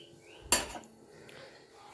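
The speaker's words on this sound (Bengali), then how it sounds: "কড়াইটা বসিয়ে দিলাম।" A wok set down on a home kitchen stove, one sharp metallic clank near the middle and another at the end, close and fairly quiet against a still room.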